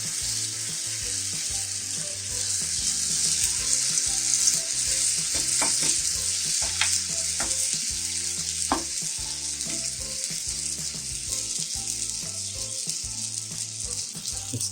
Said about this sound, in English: Allow this to cook on medium to high flame for at least a minute.